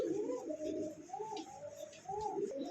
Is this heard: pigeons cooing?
yes